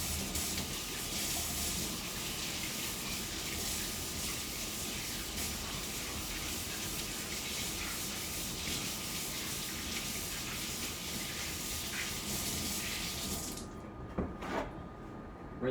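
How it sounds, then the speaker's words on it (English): Tap water gushing steadily into a sink as hands are washed, a constant rushing stream that cuts off near the end, followed by a couple of light knocks. "I'm gonna wash my hands first"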